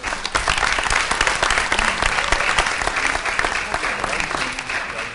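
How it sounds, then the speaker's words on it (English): An audience at a hip hop youth summit forum applauds its panelists, a dense, steady burst of clapping that carries on for several seconds. "let's give a warm round of applause for our panelists"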